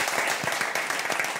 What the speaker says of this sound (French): je vous demande de l'applaudir, à Henri Jacques.